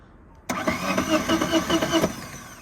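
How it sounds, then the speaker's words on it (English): An electric-start outboard kicker motor on a boat transom cranks and catches, a sharp start followed by a couple of seconds of rough, pulsing mid-range engine running, fairly close. "Kicker motor is electric start."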